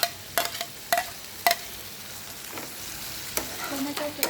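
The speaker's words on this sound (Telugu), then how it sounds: "టొమాటోస్ వేసుకునే విధంగా బాగా కలుపుకోవాలి" Tomatoes being stirred into eggplant frying in oil in a pan, a soft steady sizzle broken by several sharp scraping clinks of a spoon against the pan, close and alone.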